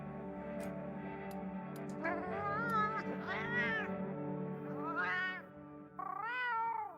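A cat in Monster Hunter Wilds lets out a string of drawn-out, wavering meows, close and clear, rising in pitch toward the end, alone over a steady low game hum.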